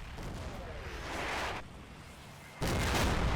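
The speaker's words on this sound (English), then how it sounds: "Oh, some return artillery there, I think." Battlefield artillery fire in the World War II strategy game Combat Mission: Battle for Normandy, a dense, rumbling wash of distant explosions and gunfire that swells and then surges louder near the end.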